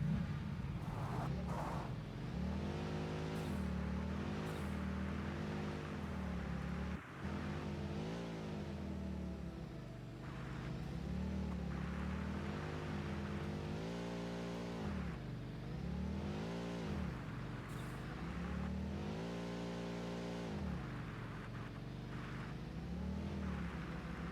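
A tractor vehicle in the video game Satisfactory drives continuously, its engine droning and rising and falling in pitch as it speeds up and eases off, quiet and steady throughout.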